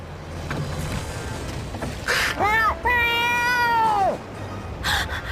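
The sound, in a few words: cat meowing in the video game Bravely Second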